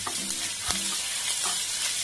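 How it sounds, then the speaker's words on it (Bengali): Garlic and grated ginger fry in hot white oil in a frying pan, giving a soft continuous sizzle broken by a few spatula stirs, nearby and fairly quiet with no talking. "তেল গরম হয়ে গেছে, রসুন দিয়ে দিচ্ছি, ঘষে রাখা আদা দিয়ে দিলাম"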